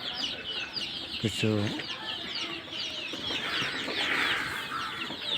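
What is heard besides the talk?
layer chickens clucking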